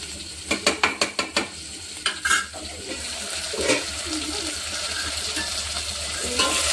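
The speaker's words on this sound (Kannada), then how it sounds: "ಇವಾಗ ನೀಟಾಗಿ ಮಿಕ್ಸ್ ಮಾಡಬೇಕು" Chicken masala stirred in a frying pan, with a burst of sharp spoon scrapes and clinks early on, then a steady sizzle and occasional scraping strokes, close and clear with no talk.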